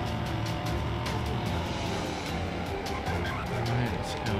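A car in the Greenville driving game speeds along with repeated tire skids and squeals over a continuous engine drone, loud and close with the game audio mixed throughout.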